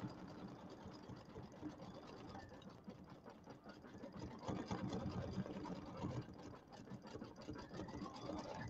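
An embroidery machine stitches a Kimberbell design with matching thread in the bobbin, a continuous fast mechanical needle chatter that holds steady and grows slightly louder midway.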